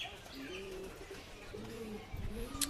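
Pigeons coo in a loft of kaldum pigeons kept by a pigeon fancier, several low soft repeated coos overlapping across the clip, fairly close, with a brief rustle near the end.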